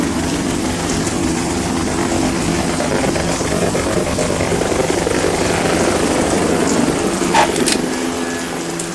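A loud helicopter drones steadily with a thick, rotor-driven hum in the video game Metal Gear Solid 2: Substance on PS2, holding constant throughout, close and unbroken.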